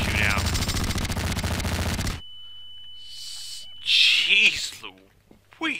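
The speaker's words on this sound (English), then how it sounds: "The next one is an automatic tactical baby launcher." An automatic tactical baby launcher fires in Garry's Mod, a dense, loud, rapid burst lasting about two seconds before it cuts off abruptly. A steady tone follows, then a voice talks.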